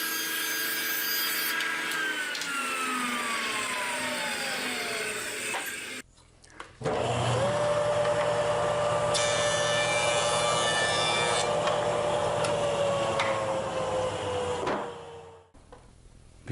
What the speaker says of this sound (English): And now it's back to the joiner for those final passes for cleaning up saw marks.